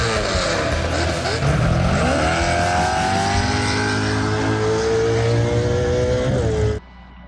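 Greg Gardner's race vehicle at the Finke Desert Race, engine held flat out and loud throughout, pitch climbing and sustained with tire noise, no lift, then cutting off sharply near the end.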